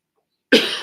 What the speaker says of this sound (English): It's hard to cough with a broken rib.